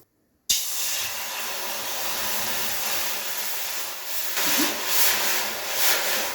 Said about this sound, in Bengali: আমি এখন কড়াইয়ে জল দিয়ে জলটা ফুটিয়ে